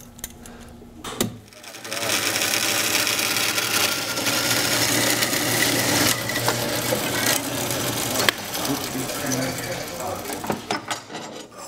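A metal-cutting saw cuts the end off a length of steel angle clamped against a stop plate for an octagonal end table, giving a steady, loud grinding whine for about ten seconds before trailing off.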